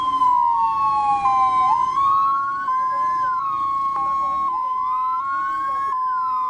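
Wailing emergency siren sweeping up and down in a repeating pattern, loud and steady throughout, with faint voices underneath.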